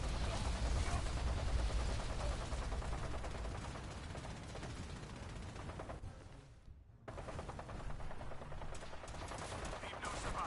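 Dense, sustained automatic gunfire from a Fallout 4 firefight, loud and continuous with rapid bursts, briefly cutting out near the end before resuming just as intense.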